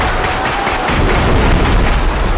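A loud explosion in the video game Bodycam, a dense, sustained blast roar with crackling debris lasting a couple of seconds, heard alone without talk.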